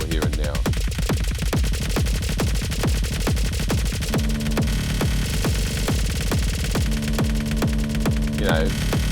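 A 90s-style live techno jam in which a synth arpeggio pulses in rapid, steady repeated notes, each one trailed by note-echo repeats, with a thick, loud, continuous texture and a sustained chord that enters partway through.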